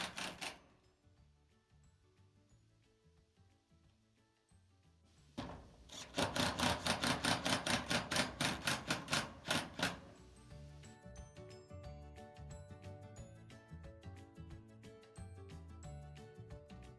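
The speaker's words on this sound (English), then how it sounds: "Then give a good tap on the back of the screw gun just to puncture through the metal and drive in your screw." A screw gun drives a rubber-washered roofing screw through metal roofing on a saw shack roof, giving a loud burst of rapid, evenly spaced ratcheting clicks for about four seconds amid quieter outdoor sounds.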